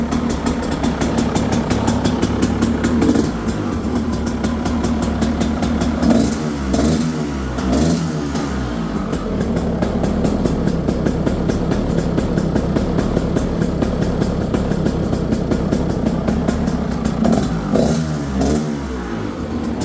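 A 2011 KTM 300 EXC two-stroke motorcycle engine runs after a kick start, a loud, close, rattling idle with occasional blips of revving throughout.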